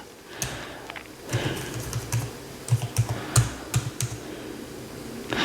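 Fingers type on a computer keyboard, producing an uneven run of close, crisp key clicks and taps that cluster into quick bursts with short pauses in between, and no voices.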